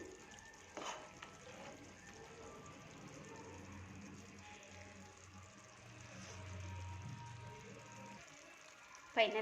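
Halved boiled eggs in curry sizzling and frying in a pan as they are turned over, a steady low crackle with a few soft scrapes and a louder clatter near the end.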